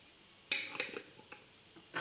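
Batter with oil and salt being mixed in a bowl, a few light clinks and scrapes of a utensil against the bowl, close but quiet, with no talking.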